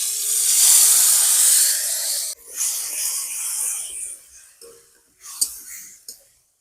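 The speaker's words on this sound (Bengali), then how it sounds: "এই তেলেই পটলের পুরটা ভেজে নেব।" Pointed gourd filling fries in hot oil with a bright, steady hiss that breaks off briefly and resumes more unevenly, with a few clinks toward the end.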